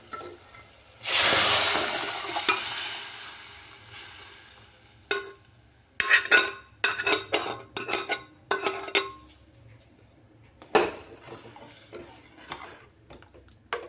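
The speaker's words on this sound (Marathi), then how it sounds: "आता आपण त्यात टाकून घेणार आहे आपली ही शिजवलेली डाळ आणि शेंगा" Pots and a ladle clink and scrape as cooked dal and drumsticks go into sizzling masala and get stirred. A soft hiss comes first, then scattered metallic knocks and scrapes with quiet gaps between them.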